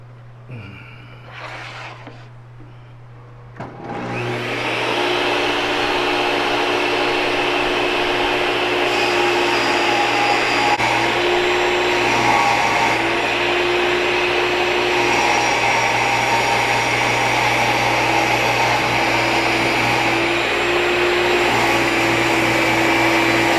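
A power tool cuts material during a budget bathroom renovation, spinning up sharply after a few seconds and then running as a loud, steady whine for the rest of the time, with slight load changes and no talking.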